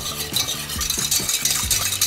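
Flour cooking in melted butter for a béchamel in a pan, a steady bright sizzle with repeated low scraping strokes of a utensil stirring the roux, close by and without speech.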